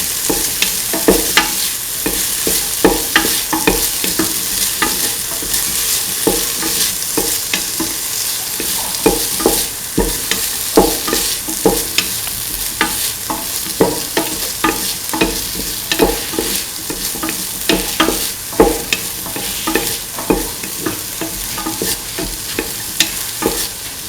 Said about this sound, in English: Keep on sauteing the tomato pieces, the rest of the mixture.